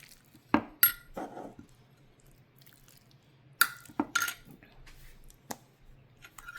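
Green bean casserole ingredients are mixed in a dish, a few separated wet clinks and scrapes of a spoon against the dish with soft squelching between, in a quiet room without talking.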